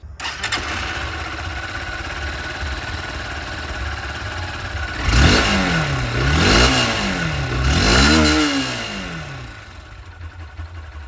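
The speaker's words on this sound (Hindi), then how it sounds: "अब मैं आप लोगों को यहाँ पर यूनिकॉर्न 160 की जो आवाज़ है ये भी एक बार सुना दूँ।" A Honda Unicorn 160 motorcycle idles steadily with a low exhaust burble, then its engine is revved three times in quick rising-and-falling sweeps before settling back to idle, close and loud.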